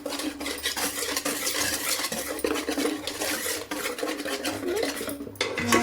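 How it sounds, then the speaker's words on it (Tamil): Fish fry batter being whisked in a bowl, giving a close, continuous metallic clatter and scraping of the whisk against the bowl with a quick, busy rhythm and no speech. "விஸ்க் வச்சு நல்லா கிளறிக்கணும்"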